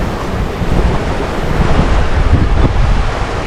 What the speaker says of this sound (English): The wind is about 10-12 knots.